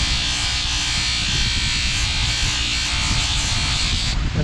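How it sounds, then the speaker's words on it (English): Steady high-pitched whir of a buffing wheel polishing originally chromed bolts from a 1974 Honda XL250 motorcycle, constant and close with no pauses, ending with a slight drop in tone. "These were originally chromed, so I'm just polishing them up back to the way they were originally."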